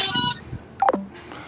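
A telephone dialing a group call, with a few tone beeps and a short electronic chirp heard alone, moderately loud and close, followed by faint line hiss.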